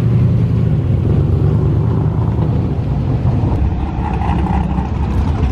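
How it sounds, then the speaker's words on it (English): An LS-swapped Nissan 350Z rumbles at a car show, a deep, throaty idle with a low steady burble and crowd murmur behind it, loud and continuous. "Sounds like an LS swapped 350Z."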